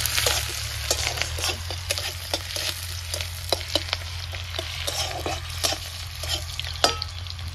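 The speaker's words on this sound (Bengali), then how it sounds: "লঙ্কা কুচি, রসুন কুচি, আদা কুচি, তিনটা একসাথে দিয়ে দিয়েছি। ভালো করে ভেজে নিতে হবে এটা।" Chopped chilli, garlic and ginger fry in a pan for a banana blossom dish, giving a steady close sizzle broken by repeated sharp scrapes and clacks of a utensil stirring against the pan, with no talk.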